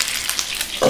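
Garlic fries in hot oil in a pan, giving a steady close sizzle with a brief louder crackle near the end.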